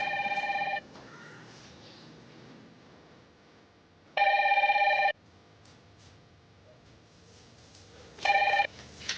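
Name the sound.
telephone ringing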